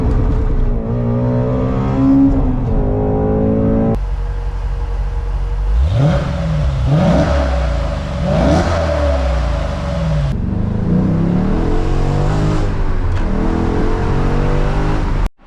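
A 2009 Dodge Challenger SRT8 with a six-speed manual engine revs hard and close, rising and falling through repeated throttle blips and pulls with a deep, loud, continuous roar.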